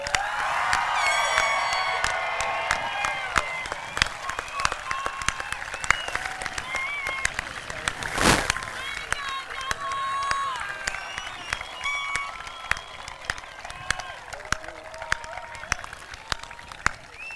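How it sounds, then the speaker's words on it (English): A graduation crowd gives the class of 2017 another round of applause, clapping mixed with cheers and whoops, busy and lively, with a brief loud burst midway and chatter underneath. "So let's give them one more round of applause."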